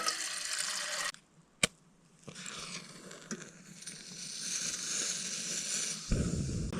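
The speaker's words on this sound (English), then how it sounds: "I'm gonna go ahead and boil some water, make some food." Water pours steadily from a container into a backpacking pot to boil for a Mountain House camp meal in the Mount Jefferson Wilderness, a close continuous splashing stream broken by a short pause and a sharp clink before pouring resumes.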